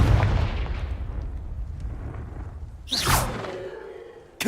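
A booming fire-spell blast from the Hogwarts Legacy video game, a low rumbling burst followed by a swooshing, crackling flare near the end, loud and close with no voice over it.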